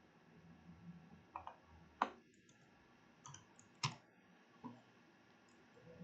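Faint computer mouse clicks during a cut-and-paste step in a math lesson, with about six sharp, isolated clicks spread unevenly over a quiet background.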